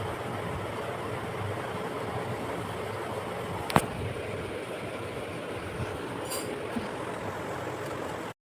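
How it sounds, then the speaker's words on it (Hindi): Sewing machine stitching a salwar, a continuous rapid mechanical whirring with a steady level throughout and a brief sharp click partway through. "तो चलिए मैं सिलाई लगा लेती हूँ।"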